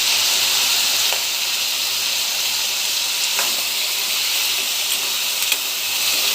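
Green chillies and tomatoes fry in a pan with a steady, loud sizzle and hiss that holds constant throughout, with faint stirring scrapes now and then.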